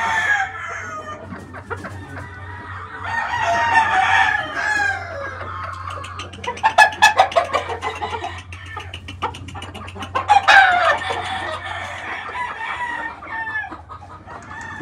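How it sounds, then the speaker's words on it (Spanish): Four JR hens and a JR rooster cluck steadily close by, broken by two loud crowing bursts from the rooster, over a low constant hum. "Estas son 4 gallinas JR con un gallo JR"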